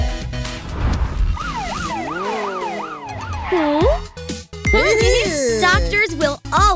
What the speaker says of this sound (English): The white car with a red cross is an ambulance!